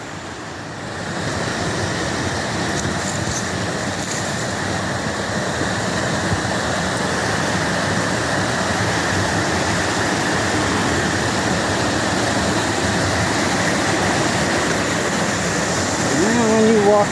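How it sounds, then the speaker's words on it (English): The waterfall at Lynx Creek is heard from above as a steady, loud, broad rushing roar that holds unbroken the whole time, with no speech over it. "There's the waterfall from up above."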